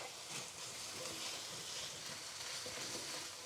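Tomatoes tipped into curry paste frying in a pan for prawn masala, a soft continuous sizzle and crackle with light stirring scrapes, fairly quiet and without talk.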